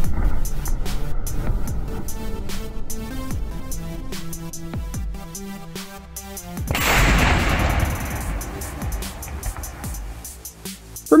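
Vortex cannon firing air blasts, heard as loud booming thumps with a long, roaring rush partway through, set against other sounds and with no voices.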